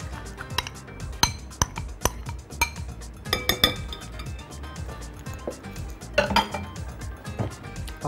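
Tahini poured into a bowl for a parsley tahini sauce, with repeated clinks and knocks of a spoon and dishes, close and sharp, scattered throughout.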